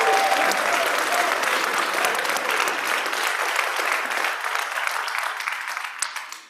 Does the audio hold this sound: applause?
yes